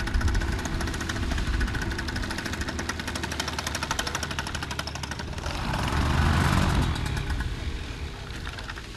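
A paramotor engine, less powerful than usual, runs steadily on a pilot's back in light wind before takeoff, a loud continuous rough drone that swells briefly louder near the end.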